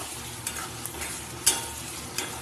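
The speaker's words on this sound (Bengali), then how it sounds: "এবার চিংড়ি মাছের যে পকোড়া টাইপের করে রেখেছি এগুলো এবার দিয়ে দেব দিয়ে এবার এগুলোর সাথে নেড়ে নেব" Fried prawn pakoras are stirred in a pan, giving a quiet, gentle sizzle broken by a few brief scraping knocks, one louder than the rest.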